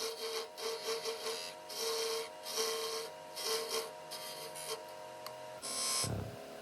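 A detail gouge cuts spalted oak on a spinning woodturning lathe, giving repeated close rasping bursts over a steady motor hum, ending with one louder, fuller cut.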